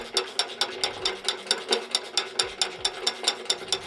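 A ratchet wrench works a bolt loose from the frame of a Ford 6.7L PowerStroke truck, with rapid, evenly spaced close clicks of the pawl in a steady rhythm and no talking.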